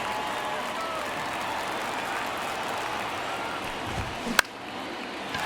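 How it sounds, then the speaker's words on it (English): A baseball stadium crowd at a one-run Braves MLB game in the ninth inning gives a steady, broad murmur and roar under a commentator's voice, with one sharp knock near the end. "Crowd locked in right now."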